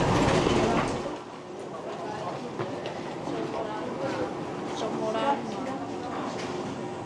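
A Hankyu Koyo Line train rumbles at a station platform with a broad, steady mechanical roar that eases after a louder opening, and faint clicks and station noise continue throughout.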